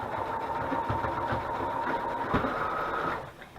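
A sewing machine stitches a craft journal, giving a steady, close mechanical whir with a rapid rhythmic chatter throughout, which stops abruptly near the end.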